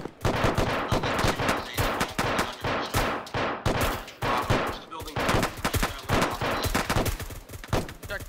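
Suppressive gunfire in ArmA 3 in a jungle setting: dense, rapid bursts of rifle and machine-gun fire crackle almost continuously, loud and close, with overlapping volleys.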